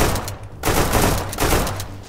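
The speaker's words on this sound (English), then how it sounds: "Oh, mate, I've shot him a few times" Gunfire in a multiplayer shooter video game, a few sharp bursts of shots ringing out loud and near across the clip with no talk over them.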